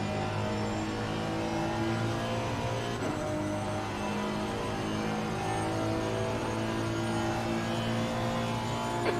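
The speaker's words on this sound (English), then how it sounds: "I like the sound of this car. It's got a bit of roar to it." A race car engine in the racing game Assetto Corsa Competizione roars continuously at high revs, a steady droning whine with slight pitch shifts, loud and close throughout.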